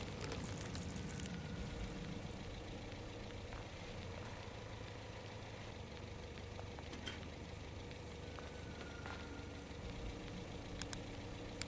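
A car idles in the video game Overland with a quiet, steady low engine hum that holds constant and faint throughout, with a few small clicks and no talking.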